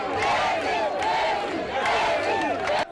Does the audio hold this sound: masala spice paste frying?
no